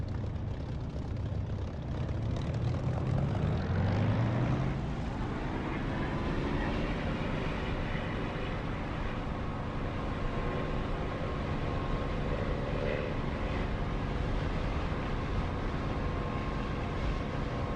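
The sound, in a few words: propeller aircraft engine throttling up, DCS flight simulator video game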